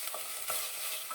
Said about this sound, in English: I've got my red curry paste sizzling away in my pot.